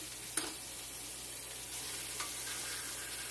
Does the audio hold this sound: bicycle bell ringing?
no